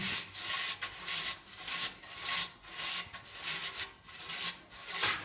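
Stove renovator product is rubbed by hand onto a black cast iron and steel stove body in a regular series of about nine brisk back-and-forth strokes, close and clear with no talking.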